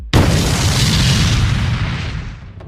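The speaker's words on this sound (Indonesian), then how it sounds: "ledakan energi yang lebih besar dari adu pukulan mereka sebelumnya terlihat di sana" A big energy explosion in a martial arts animation: a sudden loud boom with a sharp onset that roars on as a dense rumbling wash, slowly fading over a couple of seconds, with no voices.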